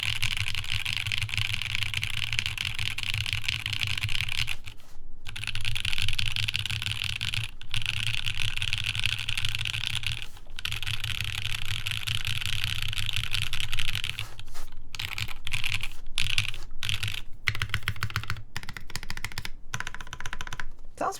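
A Vertex Arc60 mechanical keyboard fitted with artisan keycaps is typed on in quick, close, clacky bursts, broken up by short pauses and a few isolated keystrokes toward the end.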